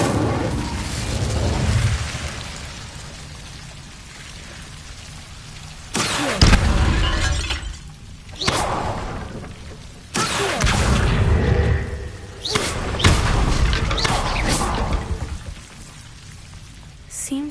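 Incendio fire spell burning Devil's Snare plant in the game Hogwarts Legacy, several loud whooshing bursts of crackling flame with a rain-like hiss between them, close and forceful, a voice briefly heard among them.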